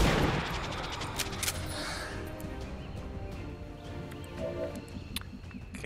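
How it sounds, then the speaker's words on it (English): Gunfire in the XCOM 2 strategy game, a burst of loud sharp cracks at the start followed by scattered fainter shots and rumbling effects. "feel like I have to take the shot"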